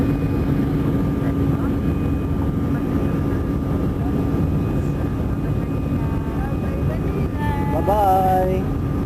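An airplane taking off from Manila's NAIA airport, heard from inside the cabin as a steady, loud engine roar that fills the whole stretch, with a brief faint voice near the end.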